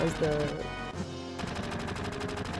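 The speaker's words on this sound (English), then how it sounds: "I've noticed that the sound of gunshots is in the same rhythm" Gunfire from combat in the Final Fantasy VII video game, rapid bursts of shots at a steady rhythm over game music, loud and close, with a brief quieter gap midway.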